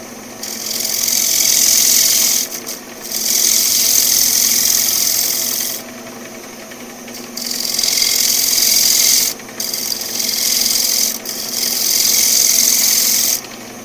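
Wood spinning on a lathe cut with gouges, a loud, close rasping scrape that runs in long sustained passes of a few seconds each with short pauses between, steady hum underneath.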